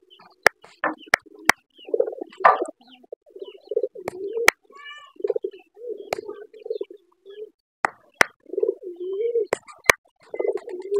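Several pigeons coo in soft, low, throaty phrases close by, with sharp clicks and taps between the calls as the birds are fed grit.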